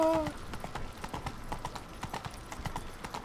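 Horse hooves clip-clop steadily in The Witcher 3: Wild Hunt – Blood and Wine, a brisk, even rhythm of close hoofbeats on a road that keeps going throughout, with faint game ambience beneath.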